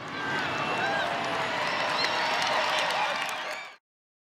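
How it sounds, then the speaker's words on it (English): A crowd at a gathering cheers and applauds, a loud sustained roar of clapping and voices that cuts off abruptly near the end. "Let's give it an activist cheer."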